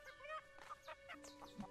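Chicken in the farming video game Everdream Valley giving a few short, quiet clucks and squawks in quick succession over a faint game background.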